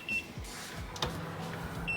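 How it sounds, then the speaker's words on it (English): An oven timer beeps faintly while scones bake in a home kitchen, with brief high electronic tones at the start, middle and end over quiet room noise. "It is beeping."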